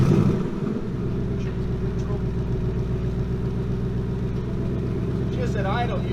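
A 2019 Ford Mustang GT S550 muscle car idles right after its push-button start, a loud, steady, deep burbling rumble close to the listener, with a brief voice near the end.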